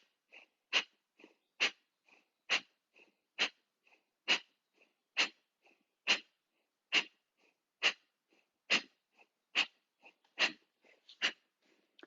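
Forceful belly breathing exercise: a rhythmic series of about fourteen sharp, close nasal breaths, evenly spaced roughly every second, each a short forceful puff with faint softer breaths between.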